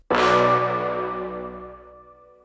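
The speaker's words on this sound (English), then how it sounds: "I have the end and then I have a fade out." A single loud chord strikes and rings, slowly decaying and thinning out over a couple of seconds as the music fades away.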